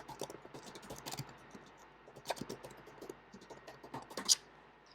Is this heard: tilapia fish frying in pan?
no